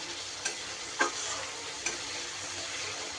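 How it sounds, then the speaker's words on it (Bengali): Spice paste with tomato paste sautéing in a pan for a bottle gourd and rohu fish curry, a soft steady sizzle with a few clicks of a spoon against the pan. "এবার ভালো করে মশলাটা আমার কষিয়ে নিতে হবে"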